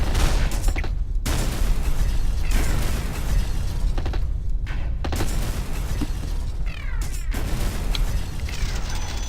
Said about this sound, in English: that's a lot of big explosions